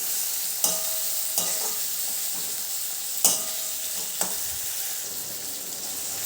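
Spring onion whites sautéing in a pan for a mung dal and green onion dish make a steady, close frying hiss, broken by a few sharp spatula scrapes and taps, with no talking.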